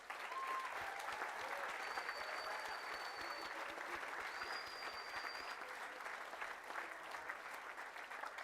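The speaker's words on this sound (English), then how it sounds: "And another round of applause" A graduation ceremony crowd applauds steadily for award recipients, sustained mid-level clapping throughout with a few faint whistles or tones drifting over it.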